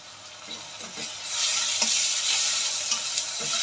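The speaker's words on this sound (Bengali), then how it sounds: "ভালো করে কষিয়ে নিব তেলটা যাতে উপরে উঠে যায়" Onion with ginger and garlic paste stir-fried in oil for a chicken and potato curry: soft scraping stirs at first, then a loud, continuous close-up sizzle with occasional spatter and spoon scrapes.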